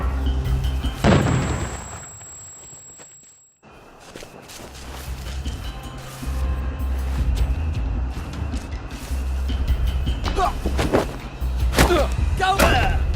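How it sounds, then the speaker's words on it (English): Heavy bomb blasts in a war film trailer: a loud low boom, a brief near-silent gap, then a long rumbling roar with several sharp impacts and thuds near the end. "They're bombing us again!"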